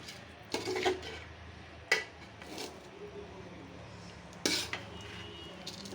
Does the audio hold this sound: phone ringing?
no